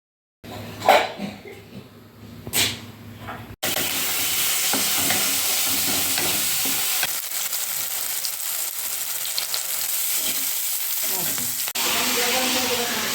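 Food frying and being stirred in a home kitchen, with a steady loud sizzle taking over after a few soft knocks and rustles, continuing with occasional scraping of the utensil.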